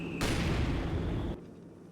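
Artillery barrage in Company of Heroes 2, a dense rumbling burst of explosions lasting about a second before cutting off to a quieter battlefield hum, with no talk.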